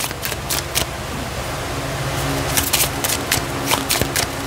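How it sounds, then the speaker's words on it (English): Tarot cards are laid out one after another on a table for an Aquarius reading, with close, crisp snaps and sliding card sounds over a steady hum of room background. "Tatag muna natin lahat yung cards nyo, Aquarius, bago natin basahin."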